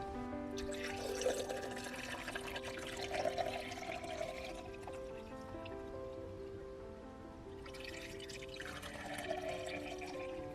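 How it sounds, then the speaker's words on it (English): Water is poured into a Dollar Tree wedding centerpiece vessel, making two bursts of bubbling, splashing liquid separated by a quieter gap, heard close and fairly soft. "I'm just going to pour some water in there."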